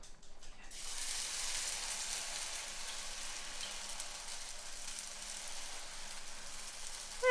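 A split mung bean plant-based egg mix poured into an oiled pan bursts into a loud, steady sizzle right after a short quiet start, a bright hissing fry that carries on evenly and close up.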